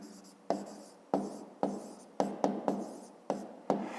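Pen strokes scratch across paper as a maths answer is written out by hand, coming in a series of short separate bursts with brief pauses between them, close and fairly quiet with no talking.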